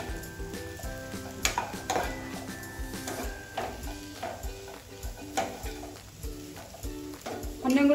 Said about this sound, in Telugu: ఇది మంచిగా కలిపేస్తున్నాను